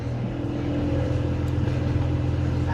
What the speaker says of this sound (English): You hear the engine?